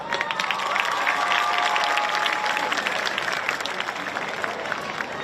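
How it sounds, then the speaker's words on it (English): Graduating class at a graduation ceremony applauding themselves, steady loud crowd clapping with scattered cheers that holds for several seconds before easing slightly, with voices blended faintly underneath. "we need to start off by giving ourselves a round of applause"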